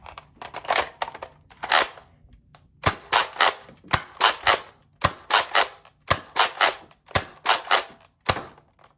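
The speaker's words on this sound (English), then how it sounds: "that is my firing demo for the Nerf Modulus Mediator" A Nerf Modulus Mediator pump-action blaster fires Dart Zone waffle-head darts in a steady series of sharp, close pump-and-shot clacks, often paired in quick doubles with brief gaps between.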